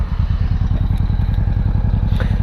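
A Honda Shadow motorcycle engine idles steadily and close by, its low pulsing exhaust beat running continuously and loud with a faint clatter on top, no talk.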